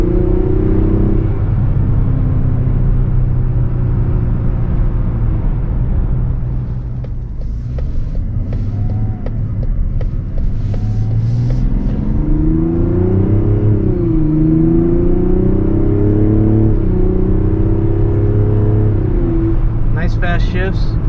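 A 2024 Mazda CX-90 3.3 turbo in sport mode pulls hard from inside the cabin, with a steady engine drone that rises through the gears in rising and falling sweeps under continuous road rumble.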